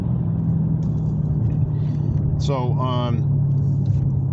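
An everyday-driven muscle car idles with a loud, steady low rumble and a droning engine tone, while someone speaks briefly over it.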